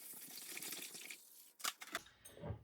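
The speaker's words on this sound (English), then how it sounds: "I'll dilute it and pour it into a tub here." Diluted Star San sanitizer pours into a tub for soaking bottles when making kombucha at home, a quiet liquid trickle followed by a few sharper splashes and sloshes near the end.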